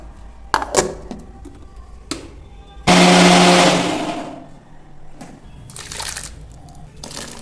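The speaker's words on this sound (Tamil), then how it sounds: "மிக்ஸி ஜாரில் வந்து இஞ்சி பூண்டு சேர்த்துட்டு நல்லா தண்ணி ஊற்றி நல்லா நைஸாக அரைச்சி எடுத்துக்கலாம்" A mixer grinder whirs loudly for a couple of seconds grinding ginger, garlic and water into paste, then winds down, framed by scattered clinks and knocks of kitchen handling before and after.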